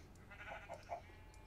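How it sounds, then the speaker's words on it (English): A sheep bleats a few short, wavering calls close by at a farm, fairly quiet over low background rumble, with no talking in between. "There's a sheep."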